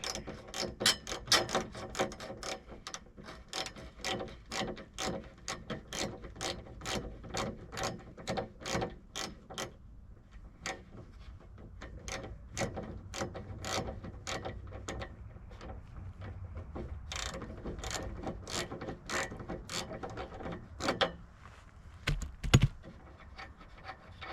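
A wrench ratchets as it tightens a bolt during a modification on a Tiffin Wayfarer, giving long runs of close, sharp clicks in steady rhythm with short pauses between strokes.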